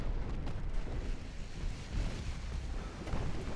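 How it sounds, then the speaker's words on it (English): Torpedo launched from a destroyer in the naval game Ultimate Admiral: Dreadnoughts, a heavy continuous low rumble and rushing roar sustained at a steady loud level, with no talking. "Port torpedo tube launched."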